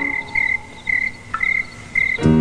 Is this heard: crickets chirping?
yes